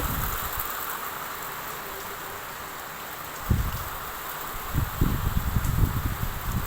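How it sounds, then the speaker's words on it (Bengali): Rain after a long spell of 42 °C heat makes a steady broadband hiss, with heavier rustling, splashing bursts joining in toward the end. "বৃষ্টির আওয়াজ কিন্তু খুব ভালো লাগে শুনতে।"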